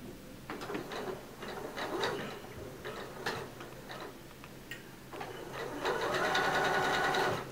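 Sewing machine stitching a seam in fabric for a dress, close and steady with a rapid ticking needle rhythm, pausing briefly between runs and then finishing on a smoother, sustained whir.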